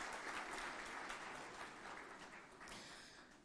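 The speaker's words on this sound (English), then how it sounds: "Please give yourselves a round of applause for being part of history tonight." An audience at the GNBS National Quality Awards 2025 ceremony claps steadily, a continuous roomful of applause that gradually fades toward the end.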